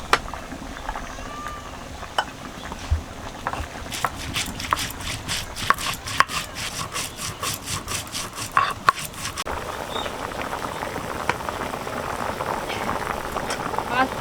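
A fish and taro curry with chillies simmers in a pan as a faint bubbling hiss. A burst of rapid tapping, like spices being crushed, rises in the middle and then fades back to the bubbling.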